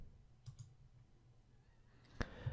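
A single sharp computer mouse click lands near the end, with a couple of fainter clicks earlier, all quiet and close against a low background hum.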